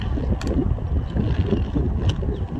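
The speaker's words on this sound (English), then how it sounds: "the wind is against me right now" Wind buffets the microphone outdoors during roller skating practice, a steady low rushing roar with a couple of faint brief clicks.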